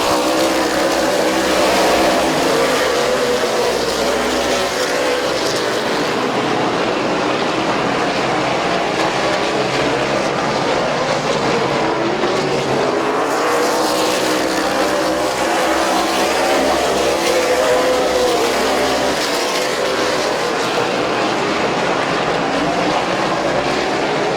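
Race cars circle Midvale Speedway in a loud, continuous engine roar, with waves of cars passing close and fading around the track and no break in the noise.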